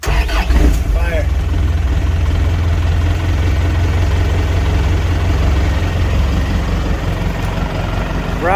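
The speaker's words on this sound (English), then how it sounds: "Rowdy little turbo diesel." A turbo diesel engine on a center-articulated, chain-drive, air-bagged vehicle with Rockwell axles runs loud and close, a deep steady rumbling idle that continues throughout, with people talking over it.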